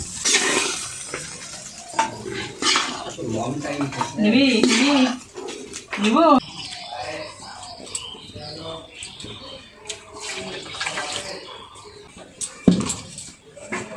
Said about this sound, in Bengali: কড়াইটা ধুয়ে